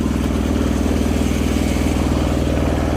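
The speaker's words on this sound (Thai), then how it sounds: "เร่งเครื่องนิดนึงเพื่อให้เลี้ยวเร็วหน่อย" A loud, steady mechanical engine drone from a Kubota R1 combine harvester revving while turning, with a rapid rhythmic chugging pulse, running continuously without voices.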